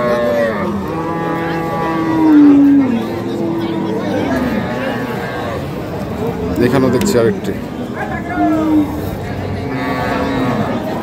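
Cattle moo several times, long low calls rising over steady market chatter, while someone speaks nearby throughout.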